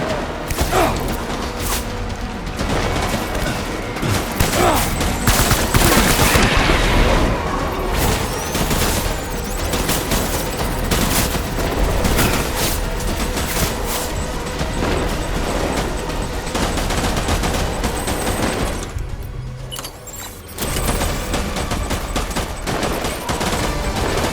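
Dense gunfire rattles through a Death Stranding battle, loud continuous bursts of machine-gun fusillade and mechanical clatter with a brief lull near the end, no talk.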